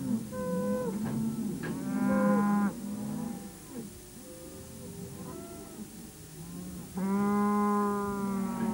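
Cattle on a large mixed farm moo loudly and repeatedly, several long drawn-out calls overlapping and answering one another at close range, with no voices.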